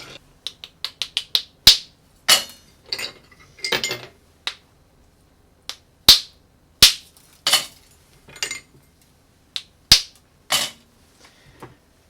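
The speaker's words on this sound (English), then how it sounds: "I'm gonna get ice here in the amount of 6 cubes, and then I'm gonna crack it in our shaker" Sharp, irregular cracks and knocks of a small hammer striking ice cubes in a metal shaker, some hits loud, others lighter, separated by brief silences.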